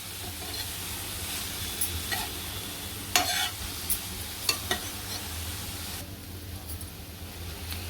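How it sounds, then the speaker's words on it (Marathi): Vegetables stir-fry in a pan over medium gas, a steady close sizzling hiss filling the whole stretch, with a few light scraping stirs and clinks of the utensil breaking through. "दोन मिनटं आपल्याला मिडियम गॅसवरतीच परतायचं आहे भाज्या"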